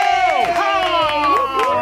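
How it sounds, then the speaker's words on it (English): Cheering and clapping from a small group of people in a radio studio for a sister station's new show, with loud, whooping shouts mixed into a brief burst of applause. "Can we get a round of applause?"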